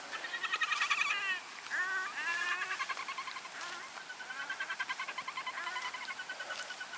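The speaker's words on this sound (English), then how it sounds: "That was just the ducks giving their say too." Ducks call outdoors at a campsite, giving repeated nasal quacks and chattering calls in steady bursts at moderate distance against quiet surroundings.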